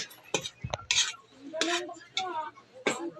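Vegetables being stirred in a pan for a simple home-cooked dish, with scraping and clinking of utensil against cookware in irregular bursts, a soft sizzle faintly underneath.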